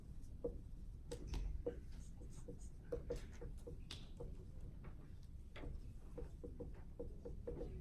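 A marker writing in red on a board, close and steady with short strokes, taps and squeaks in an irregular rhythm, no voices.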